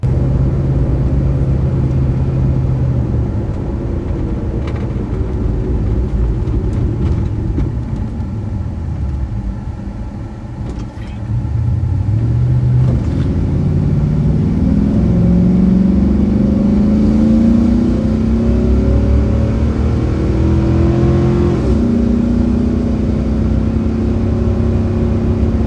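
A truck launches in a drag race, its engine roaring loud and close, dipping briefly as it shifts gears, then climbing again in rising revving sweeps that hold strong to the end.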